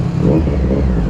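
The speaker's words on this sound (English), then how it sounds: "the idle now is quite nice and normal." A Triumph Street Triple 765R motorcycle with an SC Project exhaust idling close by, giving a loud, steady, deep rumbling throb with no rise in revs.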